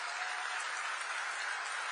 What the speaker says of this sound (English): Please, a big round of applause for the President of the United States of America